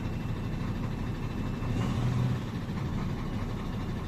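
A MAN truck's diesel engine idles with a steady, low, even rumble, close by and with no talking over it.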